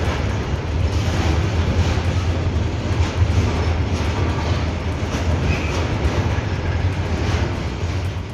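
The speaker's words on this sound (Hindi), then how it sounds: "रेलवे ऑक्सीजन एक्सप्रेस चला रही है। लिक्विड मेडिकल ऑक्सीजन टैंकरों के साथ ऑक्सीजन एक्सप्रेस महाराष्ट्र के नासिक और उत्तर प्रदेश के लखनऊ पहुंच चुकी है" An Indian Railways Oxygen Express hauling liquid medical oxygen tankers rumbles past close by, with a steady, loud rolling roar and faint rhythmic wheel clatter throughout, no voices.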